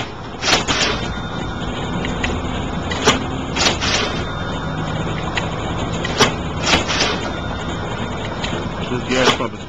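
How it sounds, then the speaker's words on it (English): A gas station fuel pump dispenses gasoline into a vehicle with a steady rushing hum, punctuated by sharp clicks and knocks at irregular intervals. "This gas pump is pumping out."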